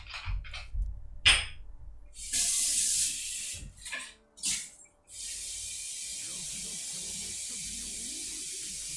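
A kitchen tap runs steadily, filling a bottle with a constant hissing rush of water after a few clattering handling sounds at the start.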